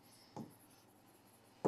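Faint scratching of writing on a board in a quiet room, with a soft knock near the start and a louder tap at the very end.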